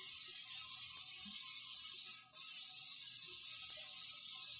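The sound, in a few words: airbrush spray tan compressor running and spraying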